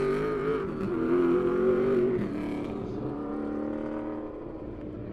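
A race car laps Lebanon I-44 Speedway during a September heat race, its engine droning steadily and loudly with a rising tone, then settling into a sustained, slightly fading roar.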